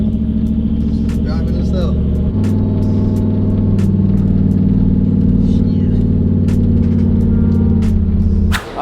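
A car engine from a build that includes a 1955 Bel Air idles steadily while warming up to operating temperature, a loud, close, continuous low rumble with a brief rev near the start, and someone speaks briefly over it.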